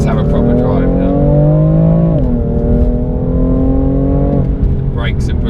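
BMW M4 Competition, 2018, driven hard with its engine pulling loudly through rising revs, a brief gearshift dip midway, then climbing again, close and steady throughout.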